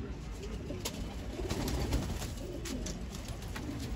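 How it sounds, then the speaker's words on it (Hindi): Female pigeons coo softly and repeatedly nearby, a low burbling call over some rustling and background noise. "काफ़ी हाँप रही है कबूतरी"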